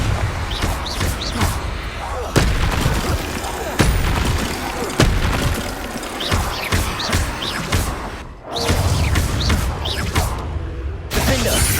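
Bombarda explosion spell going off in the Hogwarts Legacy video game, repeated sharp booming blasts with crashing debris amid a dense, continuous din of combat effects.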